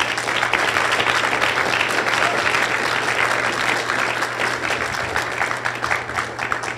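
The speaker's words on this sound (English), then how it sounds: "Maybe another round of applause for all of you." Sustained applause from a large audience, steady dense clapping throughout with no talk over it.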